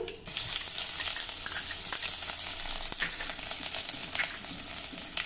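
Fenugreek seeds, crushed ginger and garlic hit hot oil in a pan and burst into a loud, steady sizzle that starts abruptly and crackles on without a break, close up and with no voices.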